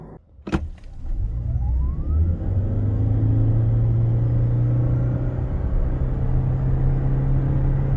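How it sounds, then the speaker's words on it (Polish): A Suzuki Swace 1.8 hybrid with e-CVT pulls away under full throttle, its engine droning at a steady, unchanging pitch as the car accelerates, a loud sustained hum heard from inside the cabin after a short click. "jest wolno i jest głośno, bo jak słyszeliście, auto trzyma ciągle te same obroty"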